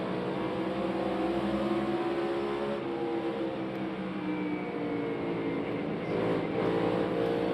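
In-car engine of a NASCAR Cup Series race car at Bristol Motor Speedway, a steady loud drone with throttle modulation throughout, heard from inside the cockpit with no talk.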